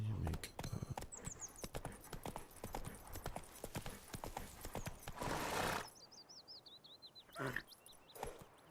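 Roach, a horse in the Witcher 3 video game, clip-clops with a steady rapid hoof rhythm up close, with brief whinnies and bird calls over it. Hooves stop near the end and outdoor ambience remains.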